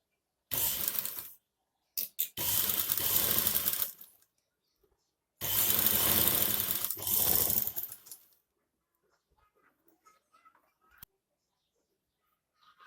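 A sewing machine stitching the end of a long frock runs in three close, loud whirring bursts, the longest about three seconds, separated by pauses and ending in near silence.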